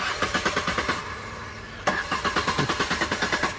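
A car engine cranks rapidly but fails to catch, two bursts of fast, even starter-motor chugging separated by a brief pause, loud and close, with no speech.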